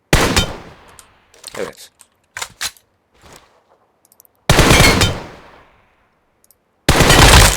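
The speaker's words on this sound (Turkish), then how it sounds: "Şu an bir mermisi boşa gitti. 3 mermi attı." Gunfire in the video game PUBG: a sharp opening burst, then a few scattered single shots, followed by two loud, close, sustained automatic bursts near the end. A voice briefly speaks between the shots.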